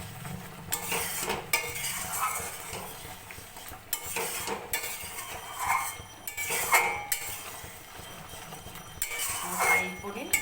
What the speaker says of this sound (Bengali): ভালো করে নাড়িয়ে নিই।